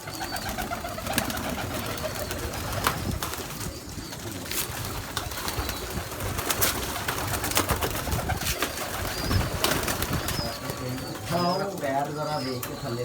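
Hundreds of caged pigeons of many kinds cooing together in a dense, continuous chorus at close range, with people talking over the birds throughout.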